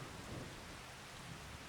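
Steady, soft rainfall in the farming video game Farming Simulator 25 makes a quiet, even hiss with faint low thunder-like rumbles underneath.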